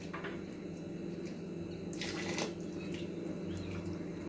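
Water poured from a cup over rice in a cooking pot, a soft continuous trickle and splash, quiet and close, with a few brief gurgling bursts.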